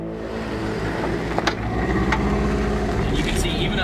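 A rally car circling a skid pad at a rally school, its engine droning steadily at close range with a few sharp clicks and rising tire or gravel noise toward the end.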